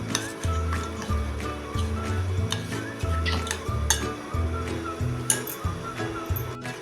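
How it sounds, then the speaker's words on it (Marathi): A spoon stirs jaggery into milk in a metal pan, scraping and clinking in a steady rhythm of short strokes roughly twice a second, close and fairly loud, with faint background voice sounds. "सतत हलवून आपण हा गुळ विरघळून घ्यायचा आहे"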